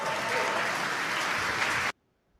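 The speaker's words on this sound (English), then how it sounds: "These people are clapping without even understanding the basics of numbers" Audience applause, a dense even wash of many hands clapping at steady loudness for about two seconds before cutting off abruptly into near silence.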